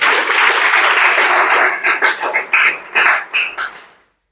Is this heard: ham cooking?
no